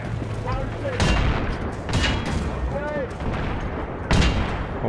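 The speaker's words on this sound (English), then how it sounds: "Oh, getting shot at from the right side." Enemy gunfire in a Battlefield video game: repeated loud, near bursts of shots and booms at uneven intervals over a rumbling battle background.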